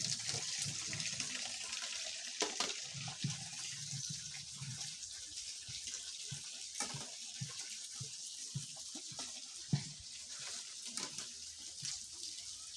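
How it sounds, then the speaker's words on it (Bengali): Plates being washed under a running tap, a steady stream of water with scattered clinks and splashes of dishes, moderately quiet and without talk. "ছেলের বউ যে প্লেট এই এগুলো পরিষ্কার করতেছে ধুয়ে নিচ্ছে"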